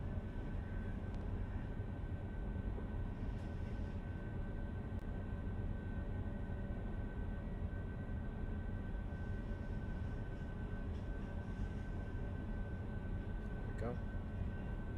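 An SF-50 Vision jet takes off in a flight simulator video game with a steady, continuous low engine drone that holds an even level for the whole stretch, with a faint high whine running through it.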